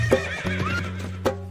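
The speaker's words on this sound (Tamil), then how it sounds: "குதிரை வருது பாருங்க, அது குதிச்சு வருது பாருங்க." A horse carrying a deity's image in a procession gives a loud, close whinny, then another brief neigh near the end, with hoof clip-clops and a steady low drone in between.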